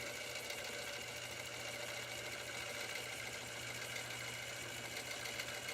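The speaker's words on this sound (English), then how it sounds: "I'm going to just do a stitch across the top of my row here that I lined up back there, just to anchor it down" A longarm quilting machine sews a basting stitch with a steady, continuous mechanical hum and fine needle chatter that runs unbroken from start to finish, close and even, with no talking.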